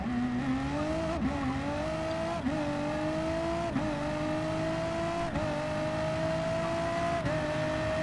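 Toyota Supra engine in the Gran Turismo racing game, a continuous loud droning engine note that holds steady with brief dips at regular gear-shift intervals, no talking.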